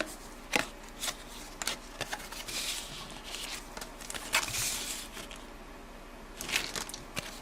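A stack of glossy 1992-93 Fleer Ultra basketball cards is flipped through by hand, with light papery flicks and crisp snaps coming at irregular intervals, close and fairly quiet.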